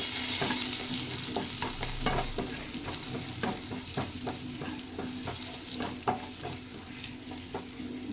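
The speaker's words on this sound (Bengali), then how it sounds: "সবগুলো ভালো করে মিক্স করে নেব।" Spices such as red chilli, coriander and cumin powder fry in a pan for kadhi, a soft continuous sizzle under regular scraping clicks of a spoon being stirred, close and fairly quiet.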